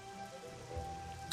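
Pouring rain at night in Morrowind, a steady hiss of rainfall across the whole moment with a faint low rumble beneath and one brief sharper patter near the end; no voices.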